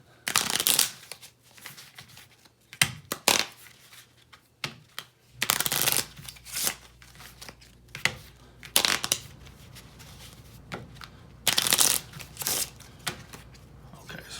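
Close-up riffle shuffles of playing cards, several quick fluttering bursts with pauses and light handling sounds between them, no speech.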